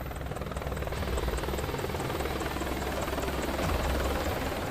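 An Apache attack helicopter flying, its rotor thumping in a loud, steady, rapid beat with a constant engine roar and no voices.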